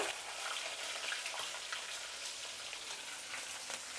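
Cashews and green chillies sizzle in hot oil for a pongal tempering, a continuous bright crackling hiss heard close and alone, steady throughout.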